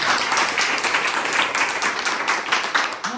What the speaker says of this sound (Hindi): ताली बजा दीजिए सामने।